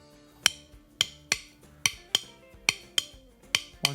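Wooden drumsticks clicking together in a blues shuffle pattern, nine sharp, evenly spaced clacks over four seconds, close and fairly loud with no talking.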